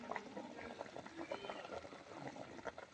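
A pot of kaddid, dried salted meat, simmers with chickpeas and onion, with faint soft bubbling and light liquid gurgles under a quiet background.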